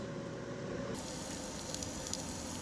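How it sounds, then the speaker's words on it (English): Steady, close sizzling hiss of pizza cooking in an air fryer, continuous throughout with a slight brightening partway through. "Y'all hear that sizzle?"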